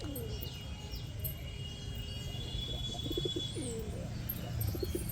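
Pet pigeons coo softly in repeated throaty bursts over a low steady background hum, with a few light chirps between.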